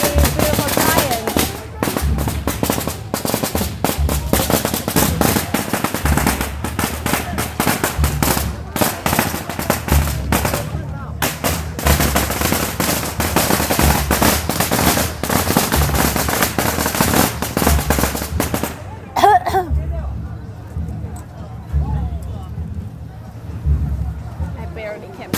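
Firecrackers at a Chinese Spring Festival parade crackle in dense, rapid bursts for most of the stretch, loud and close, then stop abruptly near the end, leaving a quieter crowd; people talk through it.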